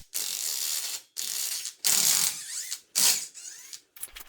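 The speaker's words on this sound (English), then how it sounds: "intake manifold bolts off and out so we can pull this intake manifold off" Bursts of rapid ratchet clicking as a socket wrench loosens intake manifold bolts on an El Camino engine during a rebuild, several close, loud runs separated by short pauses, with no talk.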